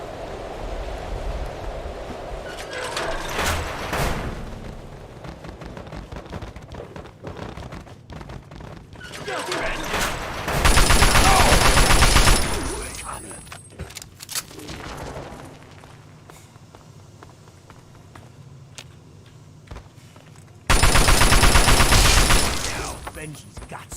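Gunfire rings out in Fallout 3 in loud, dense bursts of rapid shots, separated by quieter stretches of game ambience.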